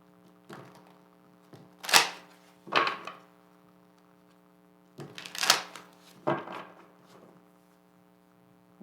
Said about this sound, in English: let me just do a couple more shuffles